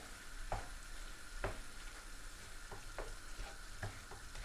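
Browned mince with sauces added is stirred in a pan for Sloppy Joes, a soft, steady sizzle broken by several scraping thumps of a utensil, quiet and close with no talking.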